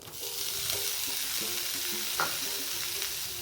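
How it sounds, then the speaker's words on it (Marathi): Squeezed bitter gourd (white karela) is stirred and fried in a pan for a home-style vegetable dish, giving a steady close sizzle with a few spatula scrapes and taps and no talking. "आणि त्यात ती पिळून घेतलेली कारली घालणार आहे आपण"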